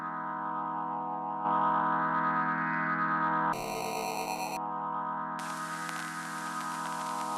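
A sustained synth tone turns gritty and crunchy as a lo-fi dirt distortion effect is applied in a hybrid iPad setup, with the texture shifting between brighter and harsher passages.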